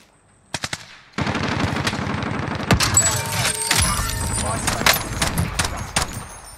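Rapid automatic gunfire in a Resurgence battle royale game, loud bursts of fast shots with clattering shell and impact sounds, a few short pops first and then sustained firing.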